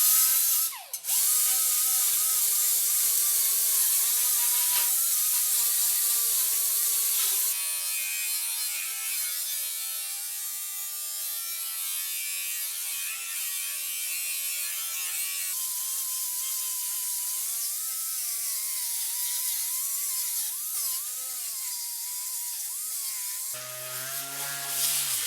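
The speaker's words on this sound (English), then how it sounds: "We're gonna clean it up with some 80 grit real quick and see what we missed." An abrasive tool with 80 grit scuffs rusted fender metal on a 1965 VW Beetle, a continuous whirring grind close by that shifts in pitch as pressure changes, with no talking.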